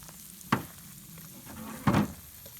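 Butter and Wondra flour cook in a pan for a roux, a low sizzle with two brief louder scraping stirs about a second apart.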